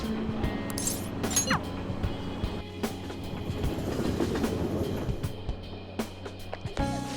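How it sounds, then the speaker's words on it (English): A train pulls out of Aoyama Itchome station in Persona 5 Royal, a steady rumble of rail noise with clickety-clack and light metallic clinks that continues throughout at a moderate level. "Train doors are now closing. Please stand back."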